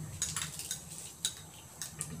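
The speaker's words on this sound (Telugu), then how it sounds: "నేను 1 స్పూన్ బటర్ తీసుకున్నాను." A metal spoon scoops butter from a container while chicken gravy masala is being prepared, giving a few light, separate clinks and scrapes with quiet pauses between them.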